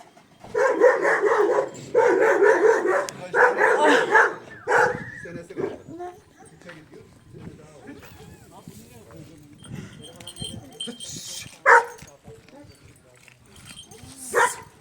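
Dogs bark loudly several times in a row at the start, then fall quieter while people talk nearby, with a couple of sharp yelps later on.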